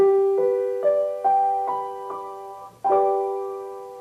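A piano plays the five chord as a series of separate struck notes, about seven close, clear attacks each ringing and fading, ending with a fuller note that decays slowly, no talk.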